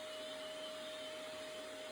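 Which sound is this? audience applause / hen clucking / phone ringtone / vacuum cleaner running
vacuum cleaner running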